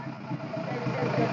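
A kick-started 2011 TVS Star Sport motorcycle engine idles with a steady low putter, close and continuous, while someone talks over it.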